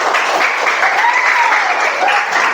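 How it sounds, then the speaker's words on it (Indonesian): Students in a classroom clap for a classmate after a group presentation, a dense burst of applause from a small group, with a voice faintly audible beneath the clapping. "Tepuk tangan dulu buat temannya."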